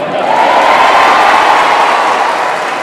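A lecture audience in Sukabumi breaks into loud, dense applause, a continuous wash of clapping that rises quickly, holds steady for a few seconds, then begins to ease.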